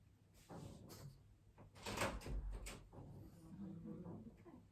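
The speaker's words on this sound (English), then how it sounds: "Let me just go and answer the door" A house door opened to answer a caller, heard as a scrape and thud near the middle amid room noise and shuffling movement.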